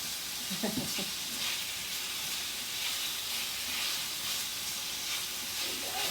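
Pork chow mein sizzling and hissing steadily in a hot pan as it is tossed and stir-fried, with a few louder scraping clatters early on and a continuous close frying hiss throughout.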